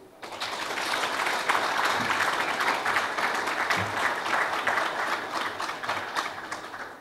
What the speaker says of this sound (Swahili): Makofi machache.